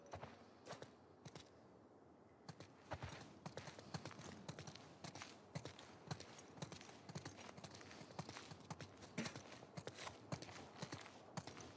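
Horses walk with steady clip-clop hooves in The Last of Us Part II, a close, continuous run of irregular hoof strikes over quiet outdoor ambience, with no talk.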